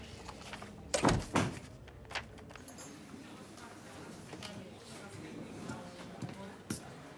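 An interior door opening and closing during a French TV drama scene, with two sharp knocks or thuds near the start, a fainter bump later and a final short thump, under quiet background talk.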